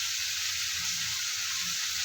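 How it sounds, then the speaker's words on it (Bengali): Spice paste with a little water and turmeric sautés in a pan for a silver carp curry, giving an even, steady sizzling hiss close by, with no talk over it. "মশলাটা কষানোর জন্য এখানে একটু পানি দিয়ে দেবো"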